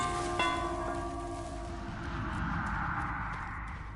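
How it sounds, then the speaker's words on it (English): The Wraith's bell in the video game Dead by Daylight rings once with a sharp metallic strike that rings out and decays, followed by a low whooshing swell as the killer turns invisible. "ring the bell, turn invisible, ring it again to turn it not invisible"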